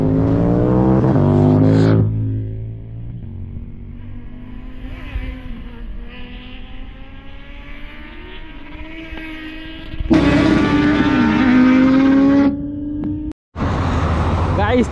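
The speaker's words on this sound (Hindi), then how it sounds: "यहाँ पे कान फाड़ के यहाँ पे साउंड सुनने को मिल रहा है। ऐसी प्रोजेक्ट लगा हुआ है कावासाकी Z900" A red older-model Kawasaki Z900 motorcycle engine roars loudly at close range, revving hard with sustained high-pitched surges that rise and fall, cutting briefly to near silence before another loud rev.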